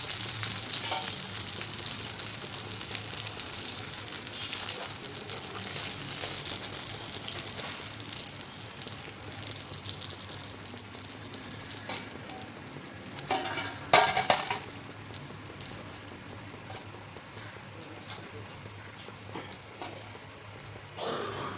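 Potato vadas for a Navratri fasting recipe deep-frying in hot oil, giving a continuous close crackling sizzle with a brief louder burst of bubbling and stirring midway.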